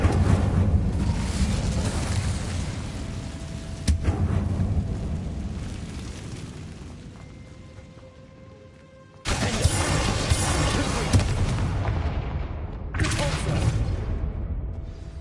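In a wizard video game, the Incendio fire spell is cast with loud roaring whooshes and bursts that rise, fade, then erupt again sharply, over a constant rushing, windy backdrop.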